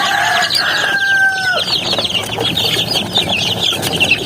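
Chicks and young chickens clucking and peeping in a crowded brooder pen, a dense, continuous chorus of chirps with a couple of longer calls rising above it early on.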